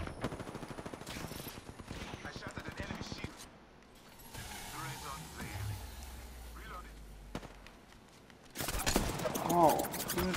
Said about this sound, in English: who's shooting me from the back?